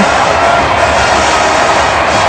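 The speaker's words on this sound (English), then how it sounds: "The crowd is on their feet. The student section is going crazy" Steady roar of a stadium crowd at a college football game between SCSU and Alabama, students on their feet cheering, a dense continuous wash of voices filling the whole stretch without pause.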